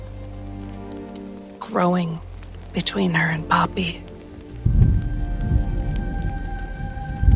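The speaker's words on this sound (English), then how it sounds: "Sound of rain on leaves." Rain falls on leaves, starting as a dense, steady patter after someone speaks softly, then carrying on alone at an even, close volume.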